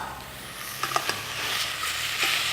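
Sausage browning in a frying pan, a steady close hiss and crackle of sizzling fat with a few sharper pops and light scraping stirs.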